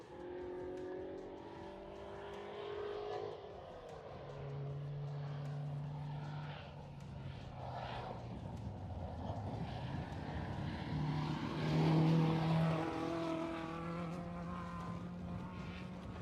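Rally cars, among them a 1960s Volvo Amazon, pass by on a rural Oregon rally stage with sustained engine drone and rising and falling tones as they go by, fairly loud and steady with no talk over it.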